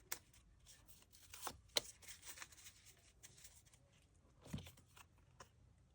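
Cards drawn from a small I-Ching-style deck give quiet, close shuffling and sliding rustles in a few brief bursts, alone.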